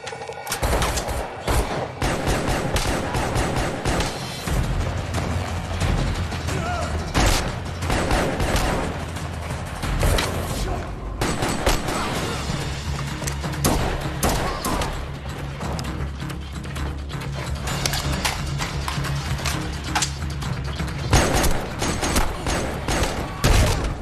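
Gunfire from the action movie John Wick Chapter 2 plays as a dense, loud barrage of shots and crashing impacts, continuous for over twenty seconds with a thick mechanical background.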